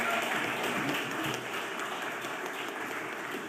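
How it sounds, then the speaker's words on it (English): Applause for young dancing boys coming on stage at a landscape architecture awards event in a hotel, a soft, steady wash of clapping from a crowd, somewhat distant and fading slightly. "Give them a big round of applause"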